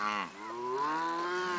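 A cow on a ranch with cows and calves gives a single long moo, a rich harmonic bellow that dips briefly and then swells and holds, close and clear with no talk over it.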